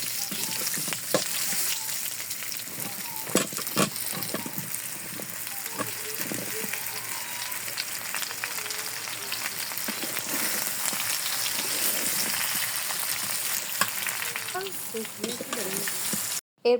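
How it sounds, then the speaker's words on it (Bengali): Chopped mango pieces being stirred and fried in a pan for Bengali mango pickle, giving a steady close sizzle with scraping and stirring clatter throughout, and no talk over it. "তো এবার আমগুলো দিয়ে দিব, দিয়ে এটাকে খুব সুন্দরভাবে মিশিয়ে নিব।"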